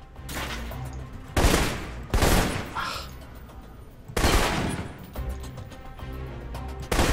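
Assault rifle fire in the video game Alpha Protocol: several sharp, loud bursts of shots erupt in irregular clusters, separated by quieter gaps with faint background rumble.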